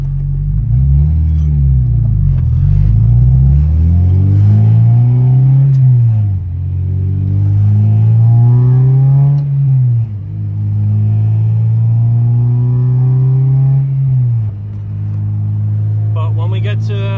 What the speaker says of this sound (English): You see how it's idling up and down?